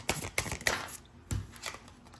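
Tarot cards being shuffled in several short, soft riffles and slides, close and quiet, with brief pauses between bursts and no talking.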